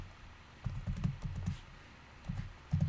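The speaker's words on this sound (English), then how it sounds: "I'm going to go ahead and type in all of these exactly how they appear." Soft typing on a computer keyboard, two short bursts of quick, quiet key taps separated by a brief pause, close by in a quiet room.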